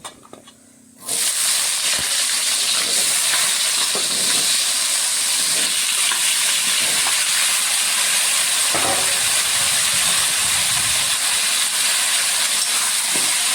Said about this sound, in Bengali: এখন আমি এই তেলের মধ্যে কোয়াশার আলুটাকে একটু লাল করে ভেজে নেব